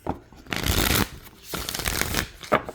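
Cards riffle in three quick bursts, a long crisp shuffle followed by another and a short final flick, close and loud.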